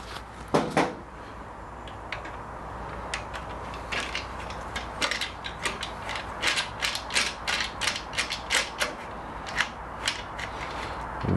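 A ratchet wrench clicks steadily as a frame slider bolt is threaded back into a Yamaha R3 sport bike, giving a run of quick, close, fairly loud ratcheting strokes with short pauses between bursts.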